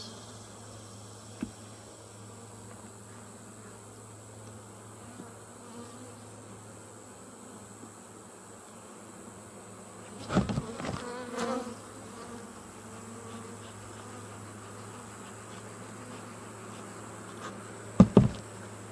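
Honey bees hum steadily from an open backyard hive as new comb is drawn out and filled with nectar, a soft continuous drone with a few sharper knocks and rustles from handling partway through.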